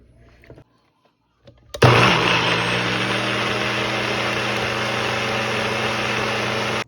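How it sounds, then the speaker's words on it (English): Blender blending raw vegan cheese with red onions and pepper, switching on abruptly after soft handling noises and then running loud and steady with a constant whirring drone. "And then I'm just gonna blend that up."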